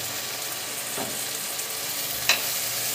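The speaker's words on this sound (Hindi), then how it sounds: "अब इसे अच्छे से कर देंगे मिक्स" Turmeric powder and spices stirred in a hot pan with oil while making a bitter gourd (karela) bharwa dish, a steady soft sizzle with a few faint scrapes of the spoon, close by and alone.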